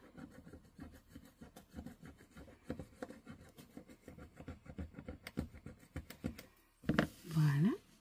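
A coin or nail scratches a scratch-off lottery ticket in short, rapid rubbing strokes, close and fairly quiet, followed by a brief louder scrape at the end.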